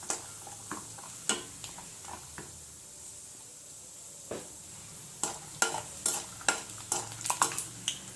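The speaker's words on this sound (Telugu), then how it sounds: "పల్లీలు, జీడిపప్పు వేయించుకుందాం ఫస్ట్" Peanuts and cashews fry in a pan, with irregular clicks and taps of a spatula stirring them over a faint, low sizzle that grows busier toward the end.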